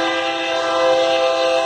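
A Union Pacific freight locomotive, number 8516, sounds a loud, steady multi-tone horn at close range at a grade crossing in Altamont, Illinois. The blast holds unbroken through the whole brief moment.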